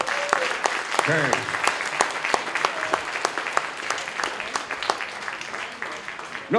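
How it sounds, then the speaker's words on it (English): Convention audience at a Klingon panel at Space City Con 2013 bursts into dense, sustained applause of many hands, with a few voices calling out over the clapping throughout. "Applause."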